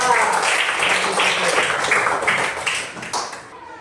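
A classroom of children claps together in dense, fairly loud applause that holds steady and then tapers off into a few scattered claps.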